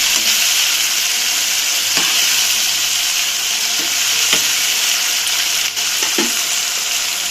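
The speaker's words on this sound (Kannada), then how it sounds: "ಚೆನ್ನಾಗಿದೆ ಫ್ರೈ ಆಗಲಿ." Turmeric fries in hot oil in a pan for chitranna, a loud, steady close sizzle throughout with a few light clicks of stirring.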